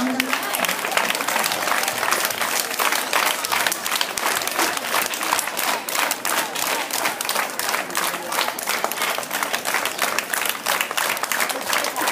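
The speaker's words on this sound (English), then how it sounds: "give them a round of applause" Steady, dense applause from a crowd, many hands clapping continuously at a loud, even level throughout.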